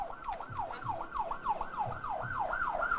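An ambulance siren wails steadily in a rising-and-falling pattern, loud and continuous, with a low rumble of traffic or crowd noise underneath and no speech.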